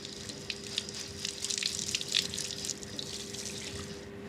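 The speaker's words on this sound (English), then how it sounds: "Now it has to go under a lot of cold running water." Cold water runs steadily from a tap over dough being washed in a sink, a continuous splashing hiss with small irregular spatters, close by and without voices.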